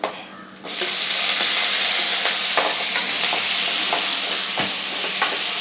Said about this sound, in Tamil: இதோட இந்த வெங்காயம் பச்சை மிளகாவை போட்டு வதக்க வேண்டியதுதான்